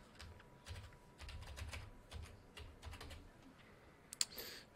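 Username and password typed on a computer keyboard: quiet, close clusters of rapid key clicks in short bursts, with a pair of sharper clicks at the end.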